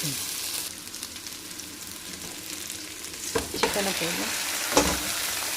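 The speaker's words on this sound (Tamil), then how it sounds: "சிக்கனை போட்டு இப்போ நல்லா கிண்டிக்கிறேன்" Chicken pieces being stirred in a hot pan, with a steady, fairly quiet frying sizzle and a few louder scraping stirs toward the end; no talking.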